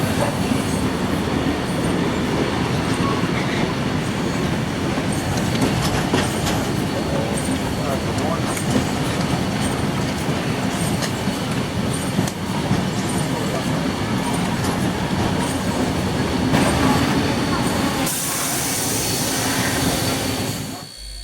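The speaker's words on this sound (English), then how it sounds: "Finally, the two steam locomotives now pass the Steamfest rally ground." Two steam locomotives roll past the Steamfest rally ground in the Hunter Valley, a steady, loud rumble of rail noise with clanking wheels lasting throughout, with faint voices beneath.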